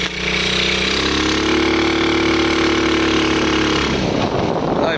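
A 110cc kids' ATV engine revs hard and close, holding a loud, steady buzzing drone that drops off near the end.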